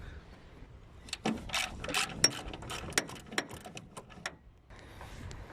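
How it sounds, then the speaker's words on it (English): A ratchet wrench undoes a 10mm nut on a Toyota Aygo tail light, giving a quiet run of quick irregular clicks and ticks close by. "we are going to undo this 10mm nut right here"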